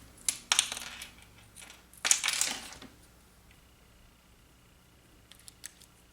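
Scissors snip through baker's twine at a paper-crafting table: two short close crisp cuts near the start and a louder snip around the two-second mark, then near quiet with faint small handling noises.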